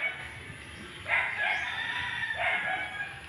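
A crossbreed broiler rooster on a farm crows twice, each call rising and then drawn out, fairly close and clear over quiet outdoor background noise.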